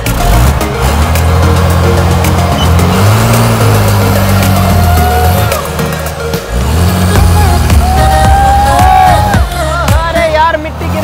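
A bus that has been buried in the earth for five months rolls backward in reverse. Its engine drones loud and close with shifting pitch and rattles, while a voice talks over it throughout.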